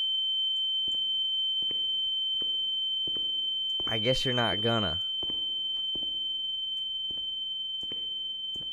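A steady, piercing high ringing tone like tinnitus drones throughout a scene in the video game The Town of Light, with soft regular thumps beneath and a short spoken phrase midway.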